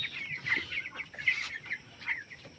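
Chickens on a small poultry farm of about 1,270 birds cluck and chatter in repeated short calls, fairly soft and close, with no voices.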